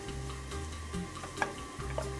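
Rice, garlic and onion frying in a pan for an enoki mushroom risotto, a steady low sizzle with faint stirring clicks, close and fairly quiet, without talk.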